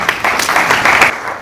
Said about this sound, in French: Je leur demande de s'élever pour être applaudis.